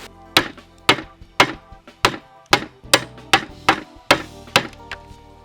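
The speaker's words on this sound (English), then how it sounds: "take the hammer and" A hammer strikes a resin-clogged 3D printer part about a dozen times in a steady rhythm, each blow a sharp, ringing clank close by.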